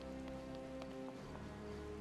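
Rainfall in the video game Zelda: Breath of the Wild, a soft even patter of drops with scattered light taps, steady and quiet throughout.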